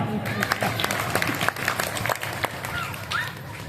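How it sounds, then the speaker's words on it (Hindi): Applause from an audience at an outdoor Hindi kavi sammelan poetry gathering in Sojat City, a dense steady clatter of many hands lasting throughout, with a loudspeaker voice and crowd noise mixed in. "तालियां बजाओ।"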